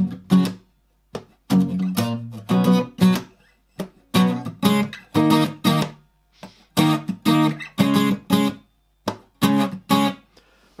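Guitar playing the intro of a song, a series of strummed chords and short riffs with brief pauses between phrases, clear and close with no talking.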